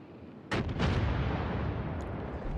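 Naval gunfire in the World of Warships: Legends game: one heavy cannon boom bursts out suddenly and is followed by a loud, rolling rumble that slowly fades.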